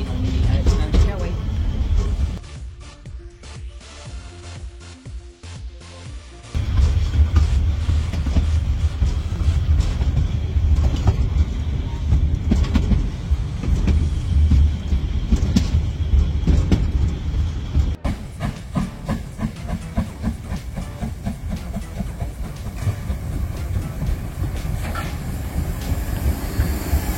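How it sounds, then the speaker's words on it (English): A train on the Herts Mountain Railway rumbles and clatters along the track with a loud, continuous rolling roar and rhythmic clicks, the noise shifting in intensity as it travels. "it's a cool place to be when you're riding on the Herts Mountain Railway"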